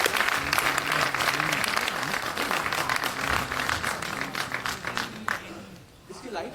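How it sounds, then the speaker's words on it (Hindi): A packed crowd at a motivational training program in Ludhiana gives loud, dense applause to welcome the speaker Deepak Bajaj, sustained for several seconds before fading out near the end. "तो अब तक की सबसे जबरदस्त तालियों के बीच में मैं माइक देता हूं मिस्टर दीपक बजाज जी को।"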